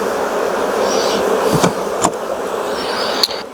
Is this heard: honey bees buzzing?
yes